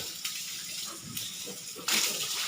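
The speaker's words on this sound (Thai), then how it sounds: "อาบน้ำล้างกรอกให้เรียบร้อยครับ" A water hose sprays down a Duroc boar and its pen in a steady, close hiss that swells into louder gushing bursts, with no talking.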